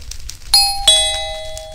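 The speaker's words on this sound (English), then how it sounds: "Was that the doorbell?" A doorbell chimes in the Minecraft video game, two clear bright ding-dong tones struck in quick succession and ringing out over a quiet background.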